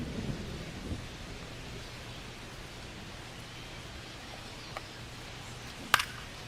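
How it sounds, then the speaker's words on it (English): Steady broadband rain hiss from a baseball game in MLB The Show 25 runs throughout as a continuous wash, with a low hum beneath and a sharp brief crack near the end. "This rain is not letting up."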